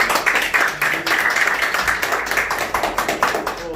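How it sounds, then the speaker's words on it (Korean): A seated audience at a Korean retirees' association board meeting bursts into applause, a dense, steady patter of many hands clapping close by for several seconds with no talk over it. "박수 한번."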